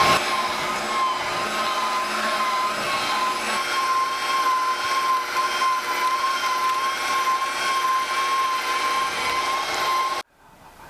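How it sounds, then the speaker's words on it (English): A meat grinder with a 1/4-inch die on setting 4 runs a pork sausage mix through a second time, giving a steady, loud, close motor drone with a sustained whine that cuts off abruptly at the end. "We're going to run it through the grinder once more with the same die, the 1/4-inch die."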